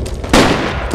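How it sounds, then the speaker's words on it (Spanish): A short, loud burst of rifle fire in the military shooter game Forgotten Hope 2, one harsh blast cutting in close and filling the moment with no talk. "por aquí enemigo, están disparando y no veo dónde"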